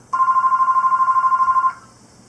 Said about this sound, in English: Oh, not a good time for a phone call, is it?